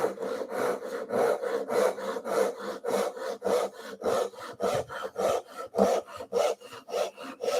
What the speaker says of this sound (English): So I'm just going to use my Japanese saw.